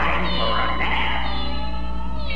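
Cartoon kittens in a Tom and Jerry episode meow in high, wavering cries over a steady, loud soundtrack with a constant low hum underneath.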